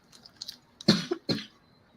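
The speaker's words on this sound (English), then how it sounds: "Let me finish coughing." Two sharp, harsh coughs close to the microphone, preceded by faint breathy throat sounds, then quiet.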